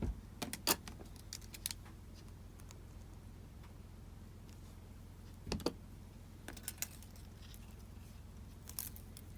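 Wire cutters snip the tail end of craft wire on a wire wrap pendant, giving a few sharp, faint clicks, one near the start and others a few seconds later, against a quiet background.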